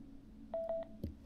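Three short, evenly spaced electronic beeps from a Sena S5 motorcycle headset during pairing, clean and near, followed by a soft click or thump.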